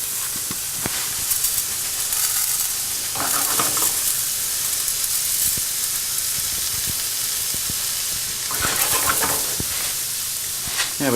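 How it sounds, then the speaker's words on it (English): Risotto rice frying and being stirred in a pan, a steady close sizzle with hissing bursts and scraping stirs at intervals, no talking. "add the risotto rice into the mixture"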